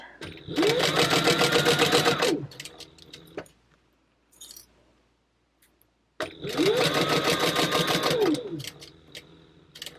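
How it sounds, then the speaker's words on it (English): Sewing machine top stitching around the edge of a wallet at a long stitch length, two loud bursts of steady rapid needle hum separated by a quiet pause. "We're going around 1/8 of an inch with a 4 stitch length because this is going to be our top stitching"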